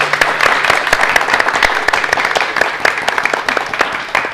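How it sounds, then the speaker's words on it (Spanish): Audience applause at a live Spanish-language entertainment show fills the clip, dense loud clapping from a crowd that swells and rolls on steadily for several seconds. "Continúa los aplausos"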